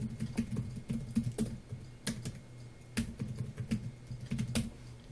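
Quiet, irregular clicks of keys on a computer keyboard as a password is typed, the keystrokes coming in short bursts with small pauses, close and faint in a calm room.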